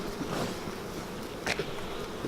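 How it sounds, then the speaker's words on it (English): Bees swarm loudly around two wooden hive boxes, a dense steady buzz from many insects close by with a brief louder pass of a single bee near the end, no talking. "bees swarming around"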